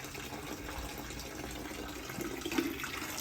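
Stormwater from a micro-bioretention facility in Maryland flows out of the drain pipe below a number 57 stone layer toward a sediment basin, giving a steady low trickling and splashing wash with a slightly louder gush near the end.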